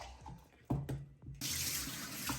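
Kitchen tap water runs into a sink while an ice cube tray is rinsed, with a gentle splash that turns to a loud, steady gush halfway through. Soft clinks from the tray come before it.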